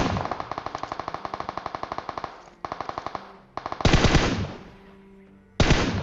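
Gunfire in the mobile battle game PUBG Mobile: a rapid automatic burst of evenly spaced shots, then a pause, a few more shots and two loud single blasts with ringing tails, no talk over it.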